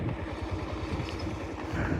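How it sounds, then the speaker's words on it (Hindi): A motorcycle labours up a rough, steep mountain road toward Babusar Top, its engine throbbing in a steady low pulse that stays close and fairly loud throughout. "अब्दुल्ला साहब, बैठ के तो मुश्किल से चढ़े बाइक, लेकिन कर रहे हैं कुछ"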